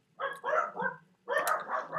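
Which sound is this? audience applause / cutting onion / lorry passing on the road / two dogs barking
two dogs barking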